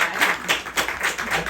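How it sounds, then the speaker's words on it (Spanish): Brief applause from an audience at a Spanish talk, a dense, steady patter of many hands clapping at moderate distance. "Un aplauso"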